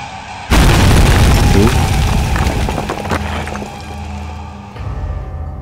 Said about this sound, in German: wenn du dich teleportierst, machst du coole Geräusche.